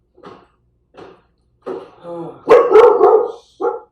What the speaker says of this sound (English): that's Dixie barking at our guest